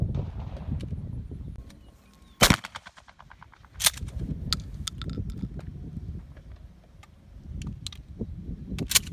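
Shotguns fire at a military trap and skeet range: two sharp, loud reports stand out above windy outdoor rumble, and fainter, more distant shots click in between.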